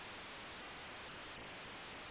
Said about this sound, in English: We're back in the day and age where white noise masqueraded as crowd applause